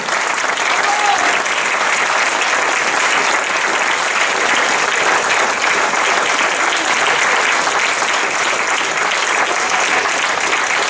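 Sustained, even applause from a large audience saluting a troupe of performers, a dense wash of clapping that holds at a strong level throughout.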